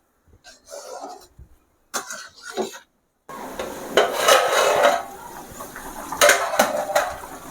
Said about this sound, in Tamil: இதை அப்படியே பொறுமையாக கிண்டி விடணும் ஏன்னா மீன்லாம் உடஞ்சிடக்கூடாது